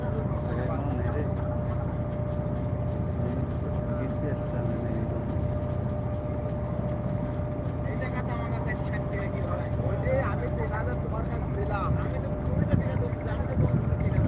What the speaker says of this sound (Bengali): এই যে আর একটি বোট আসতেছে ঘুরতে